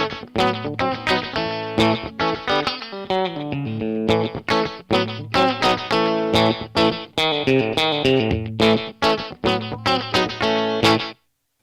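A distorted electric guitar through an overdrive pedal plays a choppy, driving outlaw country riff with crunchy overdriven chords and short stabbing rests, loud and close, with no talking.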